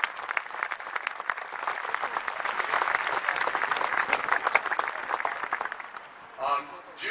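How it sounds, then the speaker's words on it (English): A crowd applauds outdoors during a San Francisco tour, a dense clatter of many hands that swells in the middle and fades, followed by a brief voice at the end. "Let's give them a round of applause."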